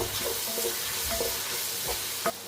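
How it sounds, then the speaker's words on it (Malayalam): Onions sauté with crushed garlic, ginger and green chilli for a crab roast, giving a continuous close sizzle broken by a few scraping stirs of the pan, with no voices. "നമുക്ക് സവാള ഇങ്ങനെ വഴറ്റിയെടുക്കണം കേട്ടോ"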